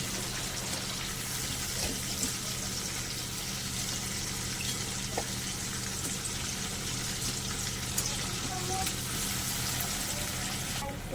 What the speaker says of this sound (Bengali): ঝোলটা তো আমার খুব ভালো করে ফুটে গেছে, মাছগুলো দিয়ে দিয়েছি।